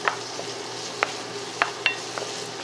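Onions sautéing in butter over medium-low heat, a soft continuous sizzle close by, with a few sharp clinks of a utensil against the pan spaced through it and no talking.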